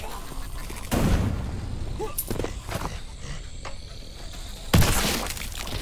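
A sticky grenade blows up in a zombie tower-defense shooter video game, giving two loud, sharp blasts with shattering debris, separated by scattered gunfire and game effects, while a player talks over the action.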